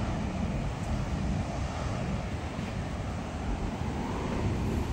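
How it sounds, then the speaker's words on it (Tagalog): Strong ocean surf rolls onto a beach in Guimaras near a lighthouse walkway, a steady dense wash of breaking waves mixed with wind buffeting the microphone, loud and continuous with no talk. "Maalon. Lakas ng alon."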